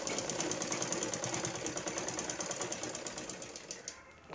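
A sewing machine runs a rapid continuous stitching rattle while sewing the corners of a tiffin box bag, steady and fairly quiet before slowing and stopping at the end.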